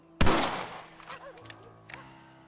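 A single loud rifle shot in the Red Dead Redemption western game cracks sharply near the start, followed by a decaying echo and a couple of faint later clicks, with no talk over it.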